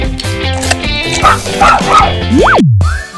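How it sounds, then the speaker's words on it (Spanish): A small puppy barks and yips loudly and close, with several sharp yelps and a rising whimpering squeal, indoors alongside playful background sounds. "¡Aquí hay un cachorro muy lindo!"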